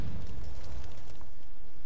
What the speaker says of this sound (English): let me get the stuff to ready and we'll do some explosions